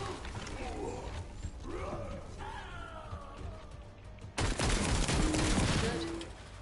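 Shotgun fire from The First Descendant erupts as a loud blast midway, after a stretch of busy combat clatter and creaking mechanical effects. The noise stays dense and heavy afterward.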